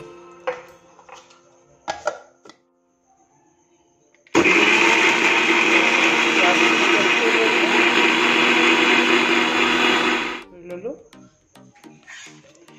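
A mixer grinder roars loudly and steadily for about six seconds while blending boneless fish with water, cutting off abruptly, with brief clatters and handling noises before and after.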